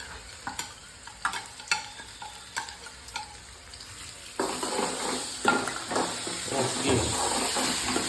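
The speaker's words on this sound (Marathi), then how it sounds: "तर अद्रक लसूणची पेस्ट टाकते कांद्यामध्येच बरं का." Ginger garlic paste goes into onions already frying in a pan. Soft spatula taps come first, then a louder, fuller sizzle swells up midway and keeps going under more stirring, with no talk.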